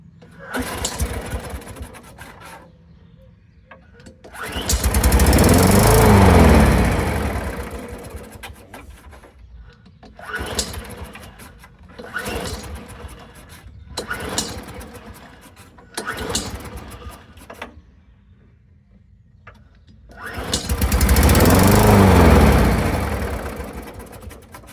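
A Hayter 56 Pro lawn mower, suspected of a carburetor problem, is pulled to start several times; the engine catches in loud surging bursts that rise and die away between quieter rattling attempts.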